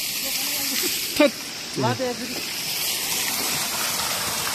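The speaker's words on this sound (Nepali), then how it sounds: "झरना बोइ कति ठुलो झरना यो" Broad, steady rush of a large waterfall in a park setting, gushing continuously at close range, with brief voices breaking in over the roar.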